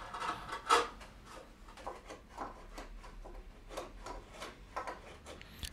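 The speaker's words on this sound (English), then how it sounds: "continue carving the body with a body chamfer made with the same tools" Hand tools rasp and rub across wood while a chamfer is carved into the body of a seven-string retrofuturistic guitar, giving repeated short scraping strokes at close range, fairly quiet and with no talking.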